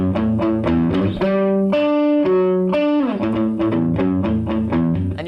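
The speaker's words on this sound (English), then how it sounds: "the bass line for the solo sounds like this" An electric guitar plays the bass-line riff under the solo of a song: a loud, distorted run of plucked low notes with a few sustained notes in the middle, played alone with no talking.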